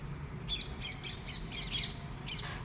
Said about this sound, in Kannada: ಇದು ಪ್ಯಾರೆಟ್ ಸೌಂಡು.